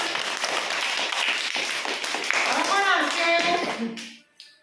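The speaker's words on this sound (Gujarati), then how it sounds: "સરસ તાળી પાડો બધા" A group of small children at an anganwadi preschool claps in a dense, lively patter for several seconds while voices carry over it, and the clapping fades out near the end.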